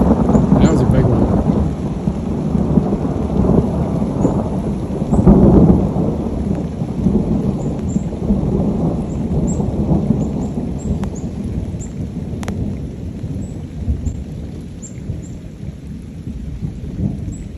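A thunderstorm in the woods fills the air with steady, heavy rain and rolling, rumbling thunder, a continuous wash of downpour with a swelling crack of thunder near the middle.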